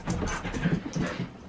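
A dog worked up over a laser pointer gives low, rumbling growls in short bursts, close and fairly quiet, with a faint whimpering edge.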